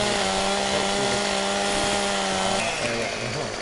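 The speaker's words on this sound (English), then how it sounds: "Let's just go ahead and start cutting this tree up, pull out our chainsaw" Chainsaw cutting a tree in Farming Simulator 17, a steady droning engine whine with a shift in pitch as the blade bites into the wood, close and continuous.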